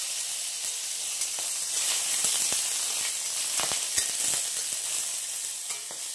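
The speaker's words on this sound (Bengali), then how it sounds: "ফোড়নটাকে একটুখানি নেড়ে চেড়ে নিই।" Bengali five-spice tempering and mild chillies sizzle steadily in hot oil, a dense continuous hiss close up with scattered sharp crackles and spatula scrapes as the spices are stirred, no talking.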